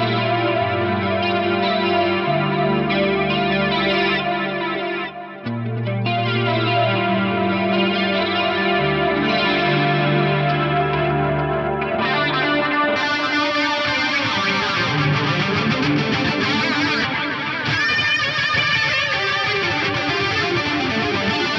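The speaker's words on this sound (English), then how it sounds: "So what I should have now is a circular style delay." Electric guitar played through a circular style delay on a Fender Switchboard, with a volume pedal engaged and an elastic mattress effect. Swelling chords wash into continuous, shimmering repeats, loud and dense throughout, with a brief dip in the middle.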